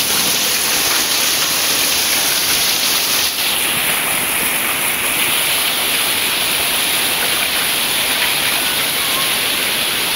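Heavy monsoon rain pours steadily in a Konkan village, a dense unbroken hiss with no breaks, close and loud throughout, with no voices.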